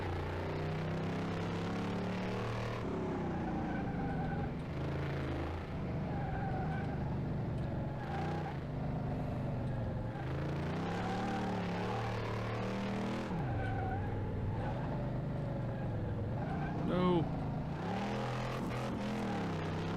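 A video-game Dodge Challenger engine in Car Mechanic Simulator 2018 revs and shifts through gears continuously on a racetrack, rising and falling in pitch, with a brief tire squeal near the end.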